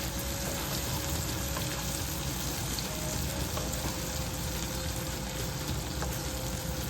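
Okra sizzles steadily in hot oil with green chili paste over a low flame, stirred slowly so it crisps evenly; a continuous close frying hiss with faint scraping, and no voices.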